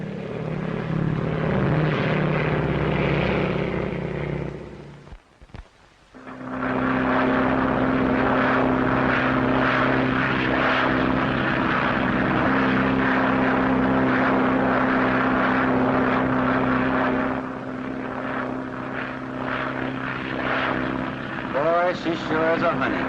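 A 1930s airplane engine drones steadily in flight, loud and continuous, with a brief drop into near silence before the engine roar resumes and holds.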